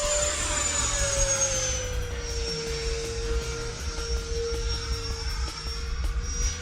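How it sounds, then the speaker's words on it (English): An agile RC model jet plane flies aerobatic maneuvers, its steady turbine whine holding throughout with a slowly shifting pitch as it passes, fairly close and loud with no talk over it. "It's one of the most agile free-wing jets out there."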